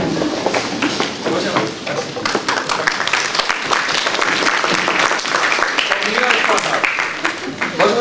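Dense, sustained applause from a large crowd at a pharmacology seminar, loud and continuous throughout, with scattered voices mixed into the clapping.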